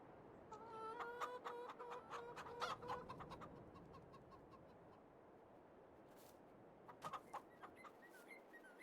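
Chickens in a farming video game cluck in quick, busy bursts over a soft ambient hiss, fading to quiet before another short clucking flurry near the end.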